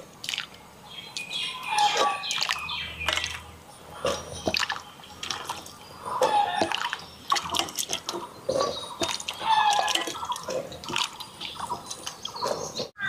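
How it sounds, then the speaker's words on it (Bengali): Water poured into a pressure cooker before boiling jackfruit, an irregular splashing and trickling with bright drips and clinks, close and fairly loud, no talking. "জল দিয়ে দিই,"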